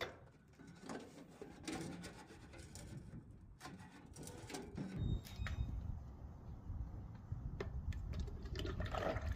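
Used deep fryer oil is poured out of the fryer tank into a container, a thick liquid gurgle and splash that swells and grows fuller over several seconds, with occasional knocks of the containers.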